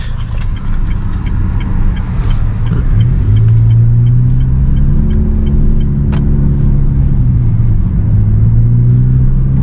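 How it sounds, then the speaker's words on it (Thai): A Honda Jazz GK 1500cc pulls into a fuel station, its engine a loud, close, continuous rumble with rising and falling revs as it rolls in, steady throughout with no talking. "ขับมาเติมน้ำมันเอง"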